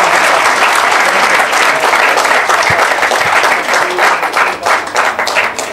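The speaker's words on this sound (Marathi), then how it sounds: "मी आपल्या सगळ्यांना कळकळीची एक जोरदार टाळ्या सावंत साहेबांसाठी होतात" An audience at a felicitation and best-student award ceremony in Thane applauds a guest of honour, loud and close, with dense clapping that swells and then ebbs into uneven bursts as it tapers off.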